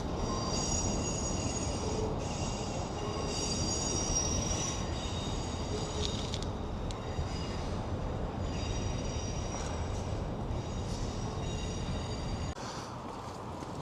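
Train rumbling across the Caledonian railway bridge over the River Clyde in Glasgow, a steady, continuous roar with high metallic wheel squeal heard from nearby for the whole stretch.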